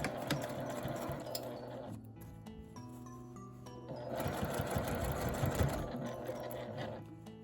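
A sewing machine stitching around the top edge of a simple fabric shoulder bag, running in a steady close whirring rattle with a brief slowdown midway before picking up speed again, no talking.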